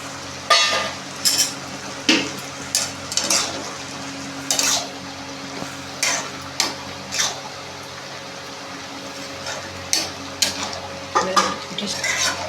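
Pre-fried prawns and ginger paste being stirred into a pan for lau chingri, a gourd and prawn curry. A spoon knocks and scrapes the metal pan in repeated sharp clacks over a low steady hiss, close and fairly loud, with no talking.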